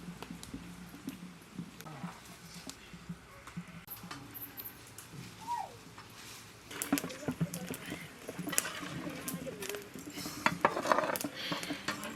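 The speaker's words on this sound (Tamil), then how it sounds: "இது மாதிரி பானையில வந்து கை விடாத கிண்டிட்டே இருக்கணும்" Thick ragi mudde dough being stirred continuously in a clay pot, heard as quiet scraping and knocking with a soft sizzle, with faint voices and kitchen noise in the background.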